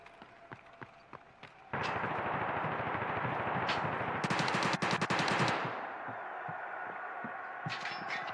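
Bursts of automatic gunfire in the Tarkov Arena shooter game, loud rapid volleys of shots clustered over a few seconds amid continuous game noise, with a sharp dense burst near the middle before fading into background ambience.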